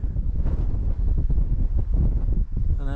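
Strong wind gusts buffet the microphone on a Peak District mountain top near Shining Tor, a loud, continuous roaring rumble with rising and falling surges.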